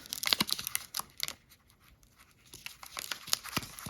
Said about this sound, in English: And these stamps peel off